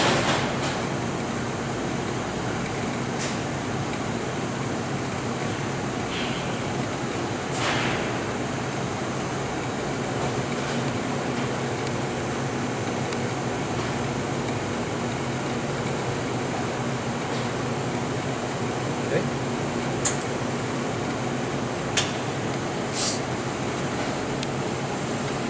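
A Denton Vacuum DV-502A evaporator runs with its filament on and rotation going, a steady droning hum and hiss with a few faint clicks and ticks, constant and close, with no talking.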